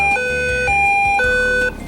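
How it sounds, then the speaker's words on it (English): WeatherX RWB8817DT weather radio sounding its SOS siren alert: loud electronic tones alternating between two pitches in a steady repeating pattern. "It sounds the SOS siren"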